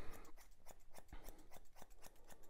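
Close, rapid snipping of straight scissors trimming fur on a dog's hock, the blades closing in a brisk regular rhythm, about a dozen cuts with no voices.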